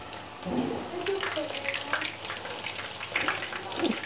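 Cumin seeds go into a hot, dry frying pan and sizzle with a steady crackling hiss, broken by occasional stirring clinks, while a person talks over it.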